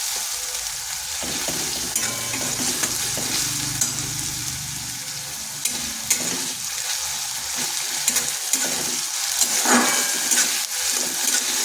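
Ginger-garlic paste fries in a hot pan with a steady, loud sizzle, broken by scraping stirs throughout; no one speaks.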